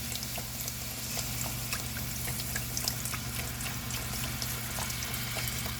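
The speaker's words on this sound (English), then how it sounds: "I'm going to go in with a cup of broth." A cup of broth is poured into a pot while cooking creamy spinach chicken, a soft, steady liquid sound with light sizzling that stays faint and continuous.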